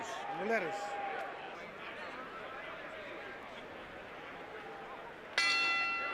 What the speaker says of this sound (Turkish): Zil sesi ilk roundu başlattı.